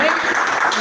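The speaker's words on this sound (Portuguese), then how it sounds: "Vamos louvar o Senhor com palmas bem fortes" Congregation clapping loudly in praise at a church service, a dense continuous wash of applause filling the short moment with no break.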